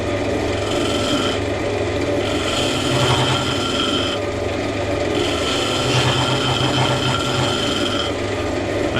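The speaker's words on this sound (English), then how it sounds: "for this one I'm just using my large bowl gouge" A large bowl gouge scrapes and cuts a segmented wooden vase spinning on a lathe, a continuous rough rasping with rhythmic surges as the tool takes gentle passes.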